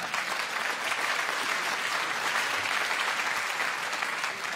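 Steady, dense applause fills an indoor award ceremony hall, a large crowd clapping continuously and fairly loud throughout.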